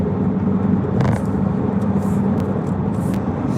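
Steady road rumble from inside a car driving through Springfield, Missouri, with constant low engine and tire noise and a few faint clicks and rattles; no talking.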